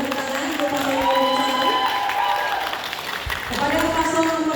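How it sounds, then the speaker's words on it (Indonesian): An audience at a regional election candidates' debate claps and cheers in a hall, a dense, loud wash of applause under a voice speaking over a microphone. "Kita berikan tepuk tangan untuk paslon nomor"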